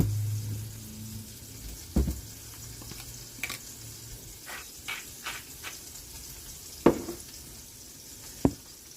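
A turkey burger patty fries in a pan with a quiet, steady sizzle. Scattered soft clicks and pops come through now and then, with no talking.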